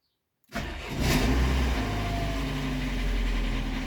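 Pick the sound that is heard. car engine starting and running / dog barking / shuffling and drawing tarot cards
car engine starting and running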